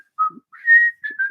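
A person whistles a short tune of a few quick notes, clear and close, with no talking.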